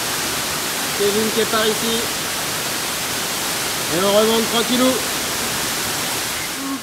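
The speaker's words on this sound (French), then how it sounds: "Voilà la cascade de 27 mètres." A 27-metre underground waterfall inside the Gouffre Berger cave, about 1000 m below the surface, fills the space with a steady broadband roar while voices talk over it twice.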